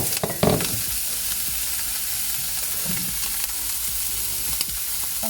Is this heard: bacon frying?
yes